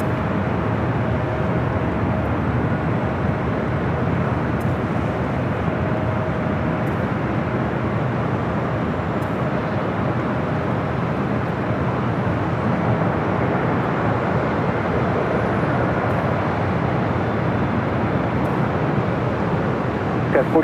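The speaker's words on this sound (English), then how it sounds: "Japan Airlines in the One World livery heading to Tokyo Narita, Flight 61, a 787-9 Dreamliner, also taking off there on the south side" A Japan Airlines Boeing 787-9 Dreamliner in oneworld livery takes off from the south side of LAX, heard as a steady, broad jet-engine roar that holds constant throughout at a distance.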